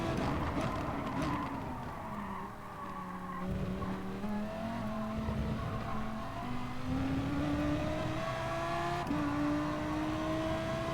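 Race car in GT Sport racing at Suzuka, the engine note climbing through gears with repeated upshifts and a brief tire squeal, steady and close, with no one talking.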